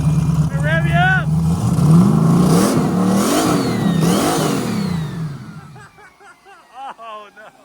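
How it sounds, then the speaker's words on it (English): A car engine revs loudly and close in repeated rising and falling surges, then drops off as voices talk over the quieter idle at the end. "Let me rev you up."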